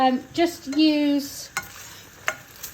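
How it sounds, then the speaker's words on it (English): A fork stirs prawn and egg noodles in a hot pan, with a low sizzle and a few sharp scrapes and clinks. A sustained tonal voice sounds briefly at the start. "we just need something to sort of stir the noodles and the everything else together"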